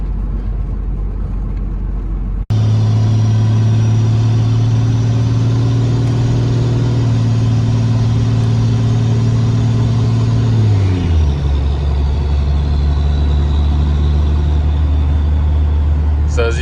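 A 12v Cummins compound-turbo truck engine (S480 and HE351 twin turbos) cruising at quarter throttle, a loud steady in-cab drone and turbo whine that drops in pitch as revs fall, with someone talking over it.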